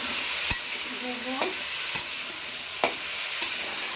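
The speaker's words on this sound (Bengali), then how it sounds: "তো দেখতে পাচ্ছ এখন হচ্ছে সবজি ভাজাভুজি হচ্ছে" Vegetables sizzle steadily in oil in a kadai, broken by several sharp scrapes and clacks of a spatula stirring at irregular intervals, close and moderately loud with no talking.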